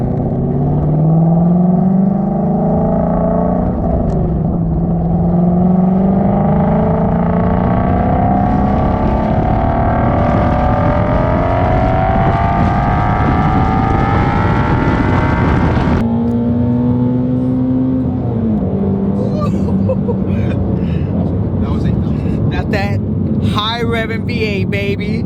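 A Ford Shelby GT350's V8 engine roars loudly and close, its pitch rising steadily under acceleration, then dropping and climbing again after a shift, with faint talk near the end.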